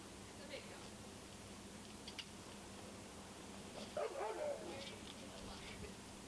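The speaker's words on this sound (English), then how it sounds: "It's a big dog." A big dog barks and whimpers in short bursts, loudest near the middle and mixed with background noise and faint talk.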